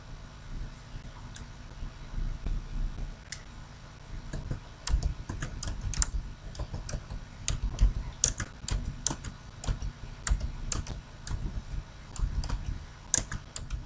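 A password being typed on a computer keyboard: a run of close, crisp keystrokes, sparse at first and then quicker and denser, over a low steady room hum.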